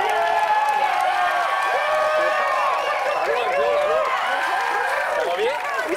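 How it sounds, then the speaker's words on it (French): A television studio audience claps and cheers loudly, with sustained applause, whoops and shouting voices layered on top throughout. "Je veux qu'on les applaudisse."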